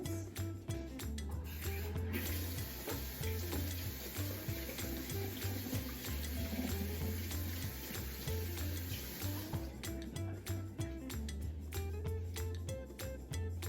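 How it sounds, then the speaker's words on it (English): Running tap water splashes steadily into a kitchen sink during a handwash, with a continuous close hiss and occasional clinks of dishes, no talking. "I'm just gonna take a minute and wash my hands"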